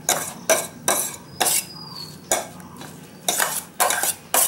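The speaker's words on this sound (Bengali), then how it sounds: "এই হাতাটার সাহায্যে আমি এটাকে একটু বাটির মধ্যে চটকে দিচ্ছি।" A metal ladle mashes freshly made chhena inside a bowl, giving about nine rhythmic scraping clanks, clear and close with no talk.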